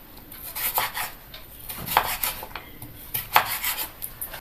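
A knife cutting a peeled carrot lengthwise into strips on a board for salted pickled vegetables, giving a few faint scraping, rubbing strokes with soft knocks spaced about a second apart, and no speech.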